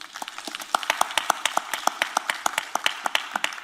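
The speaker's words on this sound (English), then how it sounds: "Give a round of applause for them, please." Rhythmic hand claps ring out steadily at a judicial candidate forum, a modest group applauding close by with sharp, evenly spaced claps and no voices.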